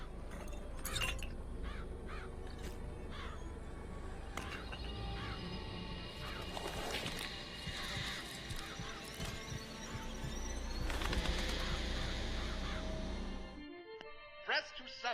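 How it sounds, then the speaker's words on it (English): Crows summoned by the Murder of Crows vigor in the video game BioShock Infinite, a dense flurry of caws and flapping over game noise for about thirteen seconds before it cuts to near silence. "Press to summon murderous crows."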